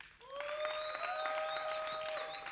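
A studio audience on a French talk-show set claps steadily for about two seconds, and a bright sustained tonal whistle or cheer rides over the dense clapping.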